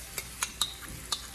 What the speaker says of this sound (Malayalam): ഈ മിക്സ് ഞാൻ ഇതിനകത്തേക്ക് ഒഴിച്ചു കൊടുക്കുകയാണ്.